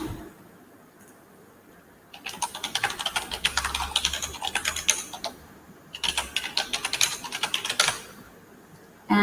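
Someone typing a name on a computer keyboard, with two quick runs of close, crisp keystrokes separated by a short pause.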